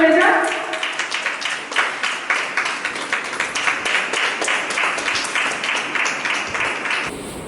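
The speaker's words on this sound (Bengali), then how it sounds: "জোরে একটা হাততালি হয়ে যাক।" Dense, steady applause from an audience at a stage award presentation in Purulia, many hands clapping close and lively for about seven seconds before cutting off abruptly, with voices faintly mixed into the crowd noise.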